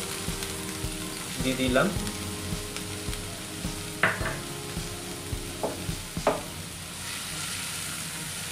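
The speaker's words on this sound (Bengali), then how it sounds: "নিয়ে হালকা করে একটু জাস্ট ফ্রাই করে নিতে হবে পেঁয়াজগুলো" Chopped onions lightly frying in a pan for Schezwan fried rice, a steady close sizzle with a few stirring scrapes and clinks, while a voice speaks briefly.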